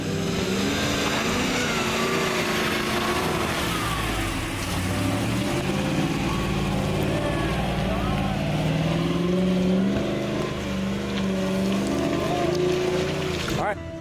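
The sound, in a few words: pickup truck engine climbing rocks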